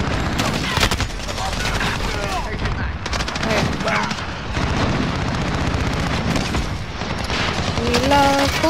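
Gunfire in Call of Duty, a dense barrage of game shots and blasts with a shotgun in the mix, loud and continuous under excited talking.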